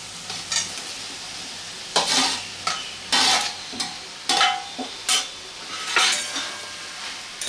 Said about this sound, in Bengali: আলু সয়াবিন দিয়ে মশলার সাথে ভালো করে মিশিয়ে নিচ্ছি।